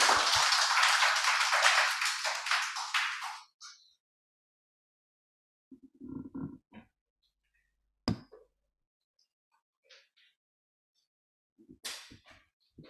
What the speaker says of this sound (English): So, shall we invite Sister Eng Hoon with a resounding clap?